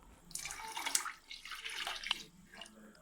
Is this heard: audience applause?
no